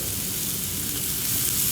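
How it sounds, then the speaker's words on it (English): Steady, dense sizzling of potatoes frying in hot oil, continuous crackle with no talking. "just take a potato, throw it in there. Sizzling, we're happy"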